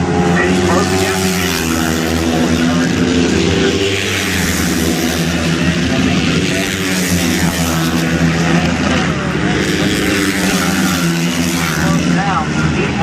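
Flat track racing motorcycles circle the dirt oval at Volusia Speedway during Bike Week super singles racing, a continuous loud, buzzing engine roar with rising and falling pitch under an excited race commentator's voice.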